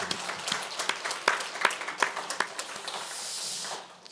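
A church congregation gives sustained applause, a dense crackle of many hands clapping in a hall, fairly even throughout with distinct individual claps standing out, before trailing off at the end.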